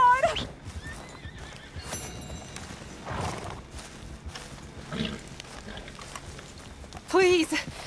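Horse whinnies and hoof clops in the Red Dead Redemption 2 video game, with a sharp neigh near the end, mixed under frequent voice talk and game background sounds.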